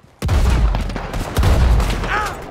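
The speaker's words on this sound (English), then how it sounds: "Sawed off shotgun." A sawed-off shotgun fires in Red Dead Redemption 2 with two heavy, booming blasts a little over a second apart, loud and close, each followed by a rumbling tail, with no speech.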